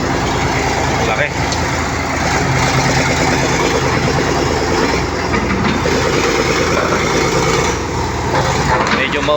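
A Caterpillar 320 excavator that runs somewhat smoky rumbles with a loud, steady idle close by, while someone talks over the continuous engine drone.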